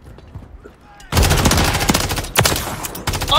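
Rapid automatic gunfire erupts in Modern Warfare 3 team deathmatch, loud sustained bursts of game shots after a quieter start with players talking, a second burst following shortly after.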